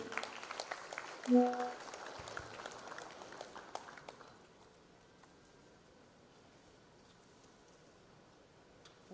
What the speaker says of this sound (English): Can we have the applause coming, please?